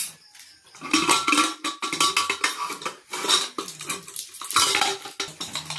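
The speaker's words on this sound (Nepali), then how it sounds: "कुकर खोल्न गइराखेको छ मेरो छोरो" A pressure cooker being opened, with repeated metallic clanks and scrapes of lid and pot in close rapid bursts and short pauses between them, no voices.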